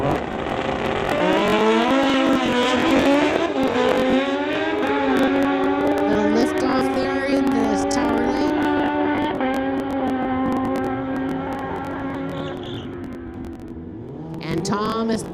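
A Kawasaki motorcycle making a drag race run at a street-legal drag racing event: its engine screams loudly, the pitch climbing repeatedly through gear shifts before easing off at the end.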